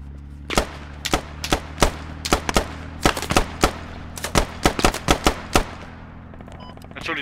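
Gunfire rings out in the video game Squad, aimed at a gunner on a car: sharp, loud single and rapid-burst shots over a constant low engine hum.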